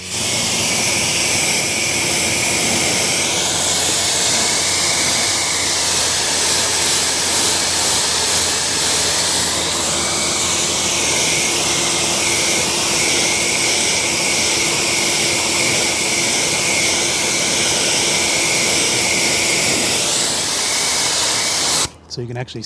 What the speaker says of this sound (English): Okay, so I'm going to go ahead and rinse it off right here.